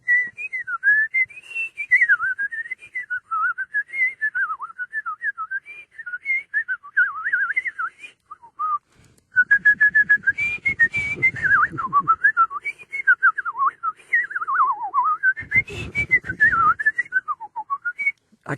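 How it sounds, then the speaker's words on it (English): A solo whistler carries a wavering melodic line alone and close, with short pauses and a few breathy, noisy bursts in the middle and near the end. "Whistle solo."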